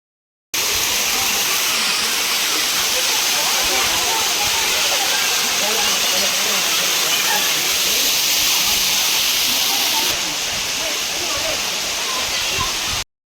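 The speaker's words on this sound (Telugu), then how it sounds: "వాటర్ పడుతుంటే నిజంగా రాళ్ళు పడినట్టే ఉంది." Talakona waterfall in the Seshachalam hills crashing down over rocks, a loud, close, continuous roaring rush of water that fills the whole stretch without a break.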